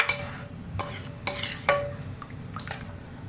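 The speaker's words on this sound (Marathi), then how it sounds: "व्यवस्थित मिक्स करून घेऊया" A spoon stirs horse gram curry thinned with water in a metal pot, giving scraping clinks and a few sharp knocks against the rim over a faint simmering hiss, with no one speaking.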